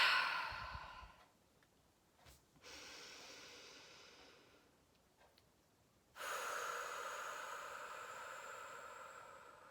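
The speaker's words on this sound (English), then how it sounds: "take a few really nice big deep breaths in and out" Slow, deep breaths in and out during a guided breathing exercise, each long airy inhale and exhale close and clear, separated by quieter pauses.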